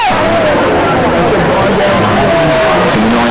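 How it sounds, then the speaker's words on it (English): A high school football crowd in the stands grumbling and jeering at the referee, a loud continuous murmur of many voices with a few rising shouts, a spectator voice speaking over it. "Some annoyances here from the crowd with the ref here"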